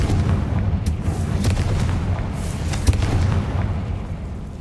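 Confringo fire spell blasts in Hogwarts Legacy, a run of deep booming explosions with sharp cracks scattered throughout, loud and dense with rumbling tails and no talk.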